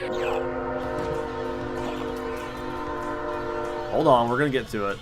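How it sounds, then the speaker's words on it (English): A train horn sounds in Castlevania: Symphony of the Night on PS1: sustained harmonic blasts with a rumbling rail passage beneath, then a wavering horn swell near the end, while someone talks over it. "I want this train to pass."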